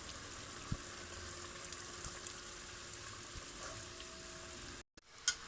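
Chicken sizzles in a pan with cumin-spiced yogurt over high flame: a steady broadband frying hiss with small pops, briefly cutting out near the end before a sharp clink.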